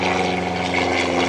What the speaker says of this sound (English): It was an airplane.